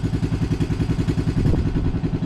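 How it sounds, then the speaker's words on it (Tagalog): A repaired fishing boat engine is test-run, a loud, steady rhythmic chugging with a regular pulsing beat, close by and running alone. "ito ngayon yung makina, yung bangka, inayos ko kahapon, kaya ngayon tinisting ko"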